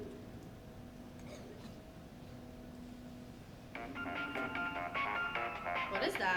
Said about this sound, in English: That's the same ringtone.